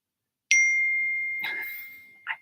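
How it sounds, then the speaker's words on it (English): A phone text message notification gives a single clear ding that rings out and slowly fades. A brief rustle follows partway through the tone, and a short second chime-like blip comes near the end in an otherwise quiet room. "Sorry, my phone, of course, nobody texts until right now."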